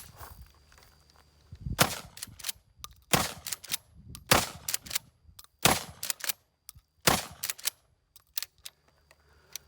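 A Civet 12 shotgun fires 3-inch rounds outdoors, about seven sharp, loud blasts spaced roughly a second apart, each followed by brief echo and mechanical clatter, with quiet gaps between.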